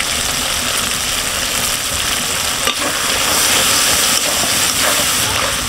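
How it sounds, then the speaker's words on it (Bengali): Mutton being stir-fried in oil for haleem, a steady, loud sizzle and hiss with faint stirring scrapes running unbroken throughout, no voices. "আমার মাংস থেকে তেল ছেড়ে দিয়েছে, তার মানে আমার মাংসটা কষানো হয়ে গেছে"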